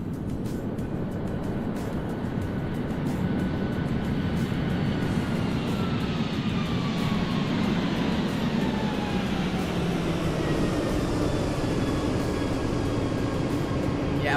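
A Boeing 737 lands in a flight simulator game: a steady, loud jet engine roar fills the whole stretch, with slowly sliding whine tones rising and falling over the rumble.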